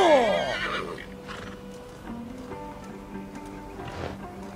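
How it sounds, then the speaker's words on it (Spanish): A horse in the video game Assassin's Creed Valhalla lets out a loud, close whinny at the start, followed by softer hoof clops and game ambience with no talking. "Que se recupere el caballo y cuando se recupere, tirará más rápido."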